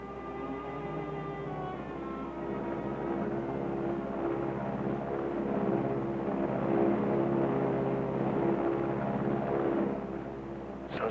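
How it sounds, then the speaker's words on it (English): A propeller plane drones steadily overhead, its low engine hum holding constant and swelling slightly in the middle before easing, with a faint rumbling texture and no voices. "Sounds like the plane."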